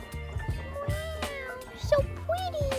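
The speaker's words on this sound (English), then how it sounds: "So this is our little baby kitten." A small kitten meows several times in short, high, rising cries at close range, mixed with rustling and soft household sounds.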